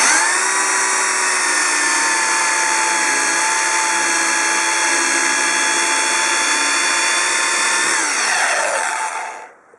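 A high-pitched 500 W AMS electric drill whines steadily at full speed for several seconds, then cuts off and spins down to silence.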